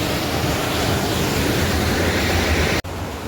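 A mountain river on the Kareri Lake trek rushes steadily close by, a dense continuous roar of flowing water with one brief dropout near the end.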